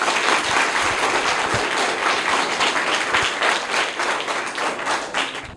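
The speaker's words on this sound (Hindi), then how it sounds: "जोरदार तालियां इनके लिए।" Hearty applause from a classroom of schoolchildren during a general-knowledge quiz, with dense, steady clapping that fills the room and holds at full strength for several seconds before tapering slightly.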